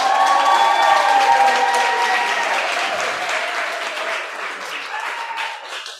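An audience applauds a choir: dense, sustained clapping with some cheering, loudest at the start and slowly thinning out over six seconds.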